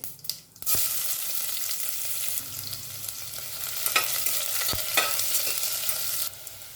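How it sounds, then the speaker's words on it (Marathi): Star anise, cinnamon, a clove, a peppercorn and bay leaf sauté in a pan for masale bhaat, a continuous near sizzle marked by a few sharp stirring clicks, with a brief lull at the start and a drop near the end. "हे चक्री फुलं आहे थोडंसं आणि दालचिनी एक लवंग एक मिरी हे चांगलं परतून घ्यायचं आहे"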